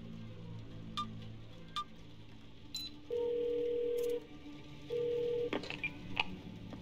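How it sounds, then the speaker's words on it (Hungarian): Someone dials 911 on a phone in the game 12 Minutes: a few sparse key beeps, then two long steady ringback tones, followed by a quick cluster of clicks and short tones, all fairly faint. "Felhívom a rendőrséget, hogy 911."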